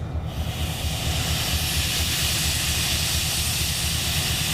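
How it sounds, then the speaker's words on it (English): Freight train air brakes release a loud, steady hiss that starts abruptly and holds continuously close by, alone without talk, during log yard switching. "There's the brake. You can hear the brakes"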